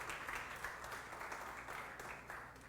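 Applause from a church congregation during a Sunday service, a steady sustained patter of many hands at moderate distance, fairly quiet and continuous throughout.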